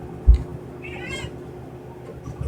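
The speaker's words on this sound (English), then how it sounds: "I gotta let a kitty cat in." Indoor cat meowing to be let in, a short faint meow over a low room hum, with a brief bump and scattered quiet background noises.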